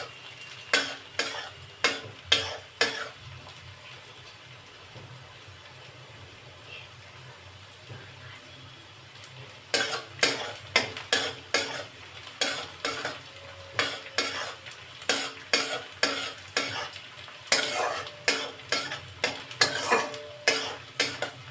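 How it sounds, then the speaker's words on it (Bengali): Onions frying in a pan until reddish-brown, with a low continuous sizzle and bursts of rapid metallic spatula scraping and clinking, a quiet pause mid-way, then steady stirring again, heard up close without talk. "বন্ধুরা দেখুন এবার লাল লাল করে ভাজা হয়ে গেছে পেঁয়াজটা"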